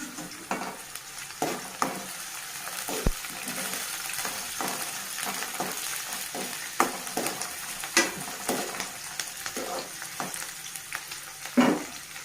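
Onions and dried red chillies fry in hot oil in a pan, a steady soft sizzle broken by scattered clinks and scrapes of stirring, close and fairly quiet.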